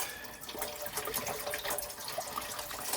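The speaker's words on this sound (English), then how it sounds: "So we're going to pour 8 cups of chicken broth." Chicken broth poured from boxes into a soup pot for Italian wedding soup, a steady close splashing liquid stream running for the whole stretch with no talk.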